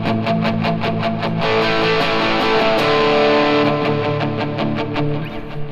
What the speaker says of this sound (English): It's called palm muting.